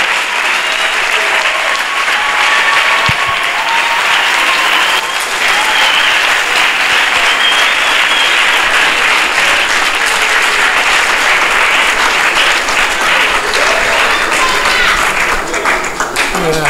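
Sustained, loud applause from an audience at a university conference debate, dense clapping filling the whole stretch without pause, a few voices faintly mixed into the crowd noise.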